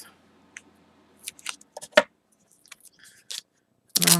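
Scissors trim foam tape on a paper craft with a few sharp, close snips spaced apart, ending in a louder crisp cut, with no talk.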